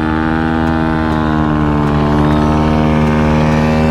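Motorcycle engine revving hard while stuck in mud on an off-road trail, a loud, steady droning roar with a slowly rising pitch and no talk.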